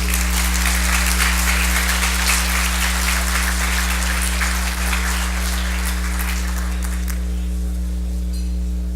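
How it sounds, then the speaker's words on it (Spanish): An audience at a business conference breaks into strong applause for a former Bolivian president, dense clapping over a steady electrical hum that tapers off in the last two seconds. "el señor Jorge Quiroga, para quien también pido un fuerte aplauso"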